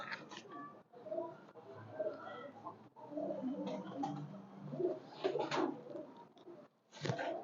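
Pigeons at a loft in Haripur coo softly and repeatedly in a quiet, low-level stretch of gentle, rounded calls with short pauses between them.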